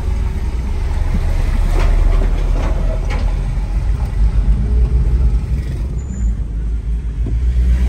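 Heavy trucks rumble past on a truck road near Bricaville, a loud continuous low engine drone with tyre roar swelling and fading as they go by.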